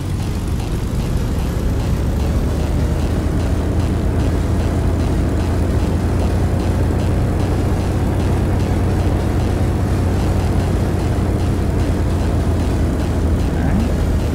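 A propeller aircraft engine in the X-Plane 11 flight simulator, throttled up on a flight from Anchorage to Port Alsworth, Alaska, giving a steady droning hum with low tonal rumble, continuous and even throughout while someone talks over it.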